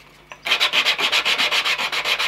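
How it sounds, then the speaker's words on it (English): Hand sanding of a glued model water tower tank: a fast, even series of rhythmic rasping strokes, close and clear, about eight per second after a brief quiet start. "And give it a good sanding."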